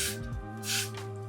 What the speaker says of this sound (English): Just spraying it along the hairline.